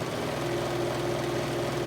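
A serger machine runs steadily, trimming and finishing a fabric edge with a continuous close-range motor whir and rapid stitching hum that stays even from start to finish.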